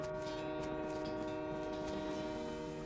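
Steady low rumble of a train car rolling along the rails in a video game, a continuous droning hum with faint clattering, no voices.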